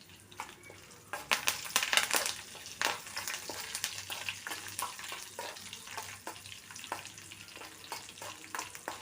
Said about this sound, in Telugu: ఎండుమిరగాయలు, ఆవాలు, జీలకర్ర వేసుకున్నాను.